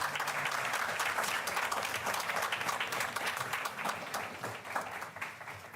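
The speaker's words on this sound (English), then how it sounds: "Let's give the champ a big round of applause." A room at a regular public meeting breaks into sustained applause from many hands, steady and fairly close, with a few faint whoops mixed in, tapering slightly toward the end.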